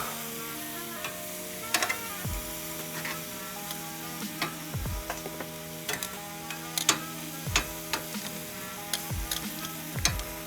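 Skirt steak cooks over an open fire with a continuous close sizzle, broken by scattered crackles and snaps from the flames and a few sharp clicks.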